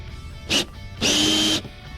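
Power driver running a T30 bolt into a Sea-Doo gunwale footrest: a short whirring burst, a pause, then a longer half-second spin, loud and close with no talking.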